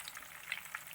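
Ripe jackfruit chips fry in hot oil, giving a faint, steady sizzle with a few small crackling pops over about a second.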